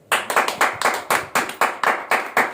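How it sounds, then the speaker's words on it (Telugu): Audience clapping hands during a Telugu sermon on David and Goliath, a steady rhythmic beat of about a dozen sharp, evenly spaced claps, close and fairly loud with no talking. "చప్పట్లు కొట్టండి"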